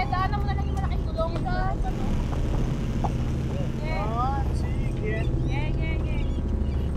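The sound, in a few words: tricycle engine driving on rough road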